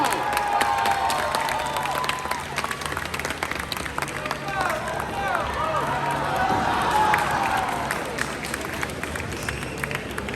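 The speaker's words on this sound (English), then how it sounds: "Cheer them on, folks, come on." Crowd at a Japanfest sumo demonstration cheering and clapping continuously, a dense wash of applause and shouts with babble mixed in, fairly close and sustained throughout.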